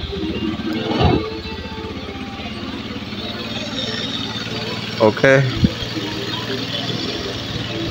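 A Honda Beat carbureted scooter runs at a high idle with a steady low engine drone, heard close, with a few brief clunks and a person talking over it.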